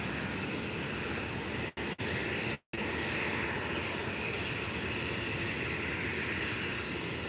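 A Condor airliner takes off from Faro Airport, its jet engines roaring in a loud, steady wash of noise that holds throughout, broken only by a couple of brief dropouts.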